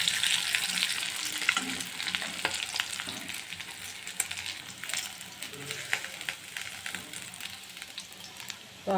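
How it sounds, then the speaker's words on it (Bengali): Fish pieces frying in hot oil in a pan for a fish curry, a steady close crackling sizzle with sharper spits and pops running throughout. "তো আর বাকি মাছগুলি এভাবে ভেজে নিচ্ছি।"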